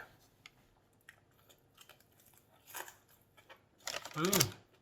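Crunchy 7-Eleven karaage fried chicken being chewed up close, a few quiet soft bites building to a louder crunchy burst near the end, with a voice briefly sounding.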